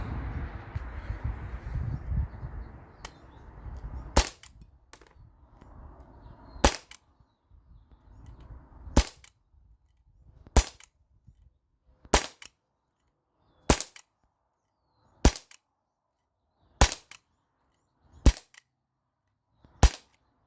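A Glock 19X Gen 5 BB pistol fires about ten sharp, cracking shots, spaced roughly one and a half seconds apart, each crisp and close, after a stretch of rustling handling noise.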